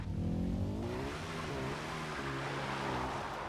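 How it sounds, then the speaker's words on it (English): A car in the Far Cry 4 video game driving off and accelerating, with a low engine drone rising in pitch and surging through gear-like steps, quiet and steady throughout, with no talk. "Let's start driving."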